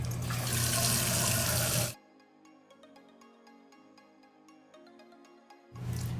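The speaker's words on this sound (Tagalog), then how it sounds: "Wash it with the lukewarm water." Lukewarm tap water runs loudly from a bathroom faucet for a face wash, then stops and leaves a quiet stretch with faint clinks before the gushing flow starts again.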